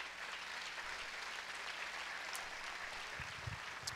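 A church congregation applauding, a steady, faint wash of many hands clapping at a distance with a few louder thumps toward the end.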